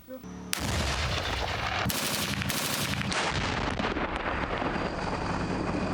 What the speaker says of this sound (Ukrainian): Проводили заняття зі стрільби, а саме стрільба з гармати і стрільба з ПКТ.